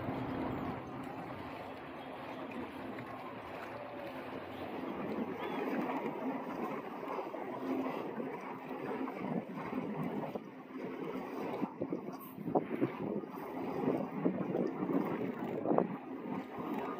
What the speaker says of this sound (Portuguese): Ventania, meu Deus.